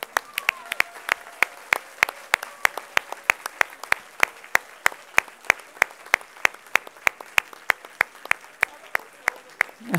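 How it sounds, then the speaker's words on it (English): A crowd applauds at the IYPT 2024 physics tournament final in Hungary. Rhythmic, evenly spaced group claps keep going for several seconds, with a few people talking underneath. "I would once again like you to give a huge applause for them."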